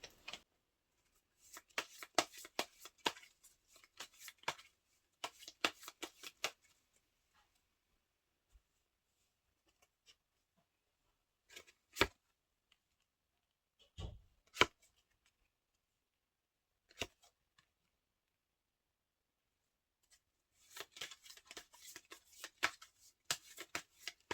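Tarot cards being shuffled and drawn in a quiet room, with soft bursts of riffling and flicking, separate card snaps and taps in between, and long near-silent gaps, faint and close, with no talking.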